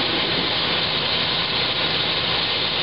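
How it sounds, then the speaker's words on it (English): A running Ford Explorer engine with a noisy, failing alternator, heard up close as a dense, steady whirring drone with a constant mechanical rattle and no pauses. "There's our alternator over here. And here's the sound coming out of it."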